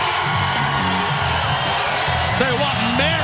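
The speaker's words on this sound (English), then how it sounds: "massive reaction here for the Hulkster. Got a ruckus crowd on here live, baby." A live wrestling arena crowd roars and cheers for Hulk Hogan, a steady loud wash of voices and whoops, with a commentator talking over the noise.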